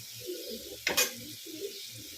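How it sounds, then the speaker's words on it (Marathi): A short sizzling hiss of spices hitting hot oil flares up briefly while tempering for cooked dal, surrounded by quieter stirring and the clink of a pan. "तेलामध्ये छान अशी एकत्र करून घेणार आहोत आणि याला छान असं परतू देणार आहोत"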